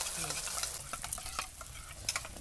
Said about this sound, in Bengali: মশলাটা তো কষা কষা হচ্ছে